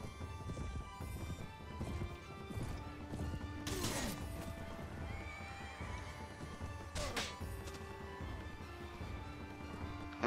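Horse hooves gallop in the medieval video game Mount & Blade Warband, a fast, steady clip-clop running throughout at moderate level, with occasional whinnies and a couple of sharp crashing hits.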